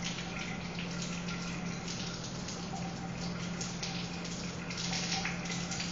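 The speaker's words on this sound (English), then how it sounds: "rinse it off under the water" A microscope slide rinsed under running tap water during Gram staining, a continuous even gush of flowing water, fairly steady and close, with no voices.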